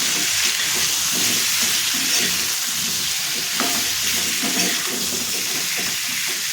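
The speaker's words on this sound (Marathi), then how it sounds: "2 मिनिटं तेलावरती व्यवस्थित परतून घ्यायचं आहे." Spices such as turmeric and goda masala sautéing in hot oil with pumpkin for a Maharashtrian sweet-sour curry, a loud steady sizzle with light stirring scrapes, close and continuous, without talk.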